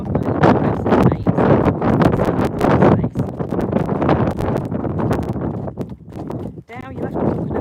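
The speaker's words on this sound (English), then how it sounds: "I'm trying to avoid the gusts of wind." Gusty outdoor wind buffets the microphone in a steady, rumbling roar that rises and falls for several seconds, with a person talking close by.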